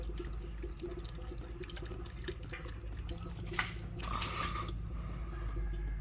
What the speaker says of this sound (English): So you let everything drain